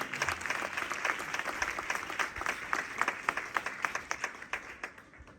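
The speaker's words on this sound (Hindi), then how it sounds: "जोरदार ताली यीशु के लिए बजाएं।" Church congregation clapping loudly for Jesus during a sermon by Pastor Farooq Barkat, dense sustained applause that turns into sharper, more distinct claps toward the end.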